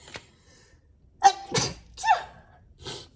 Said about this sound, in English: Whenever I sneeze in a reading